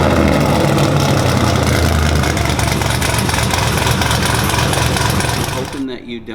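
A Chevy Trailblazer SS V8 idles through freshly fitted headers and a new side-pipe exhaust, a steady loud low rumble that holds for about six seconds before cutting off abruptly near the end.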